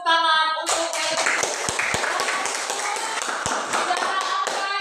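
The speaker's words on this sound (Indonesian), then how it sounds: "tepuk tangan untuk Heri." Students clap for a classmate during a classroom lesson. A tonal voice comes first, then a short run of close, sharp hand claps that mixes into a quick burst of applause.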